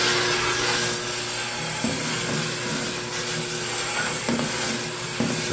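Two wire wheels stuck together scrub a sawmill blade, making a loud, steady abrasive rasping that continues without pause and carries faint rhythmic bumps.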